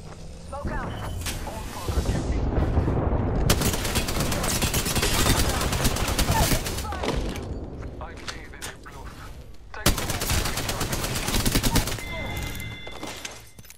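Rapid gunfire and explosions from a fast-paced Apex Legends firefight, with bursts of automatic weapon fire and sharp impacts filling the clip, loud and dense, while voices call out over the action.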